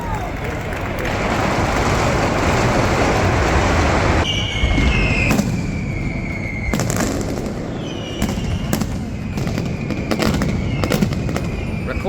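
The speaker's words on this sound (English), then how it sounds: "You could feel the largest explosions resonating through your body." A mascletà of firecrackers in a Spanish city, a dense, roaring barrage of close, rapid explosions that shifts into heavy separate booms with whistling rockets between them, loud enough to fill everything.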